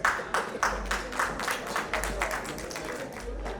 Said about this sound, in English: Please join us in giving them a warm welcome, a warm round of applause, please.